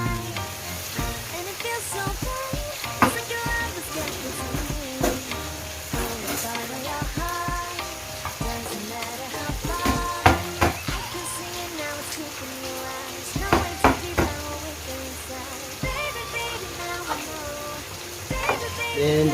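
Chili sizzles and fries in a hot pan for a Filipino ginataang pechay and carrot dish, a continuous crackling hiss with bursts of spatter and stirring, heard under a background song.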